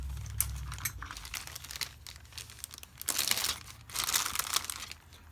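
A package is cut open and unwrapped, with crinkling, crackling plastic and paper and bursts of tearing and rustling, loudest near the end, with no talking.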